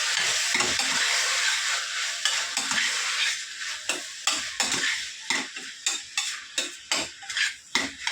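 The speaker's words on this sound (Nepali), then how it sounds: "अब मैले सबै भेजिटेबलहरु फ्राई गर्दैछु" Vegetables sizzle steadily in a pan, a dense hiss broken by repeated clinks and scrapes of a spoon stirring, which grow more distinct and rhythmic toward the end.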